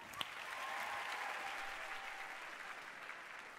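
Faint, distant audience applause at a school singing contest, a steady wash of clapping that swells slightly and holds throughout.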